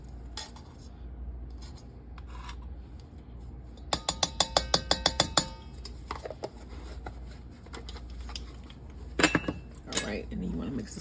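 A spoon clinks and scrapes in a bowl while salt, baking soda and baking powder are mixed into chocolate chip cookie batter, with a quick run of rhythmic taps midway and a person talking throughout.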